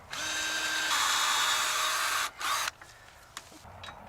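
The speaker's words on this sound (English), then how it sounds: "so I can just drill the bottom 2 holes right through there" A power drill bores holes into a masonry surface to mount an ELEY model 1041 hose reel, giving a loud, close whine for about two seconds, a short second burst, and then quiet handling noises.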